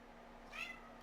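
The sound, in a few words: cat meowing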